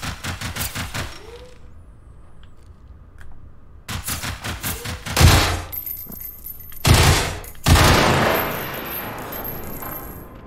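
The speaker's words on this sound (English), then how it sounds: "maybe I'll just shoot from the hip" Several bursts of hip-fired gunfire in Generation Zero, sharp loud shots in clusters separated by brief pauses, with metallic clinks and a ringing tail after the final volley.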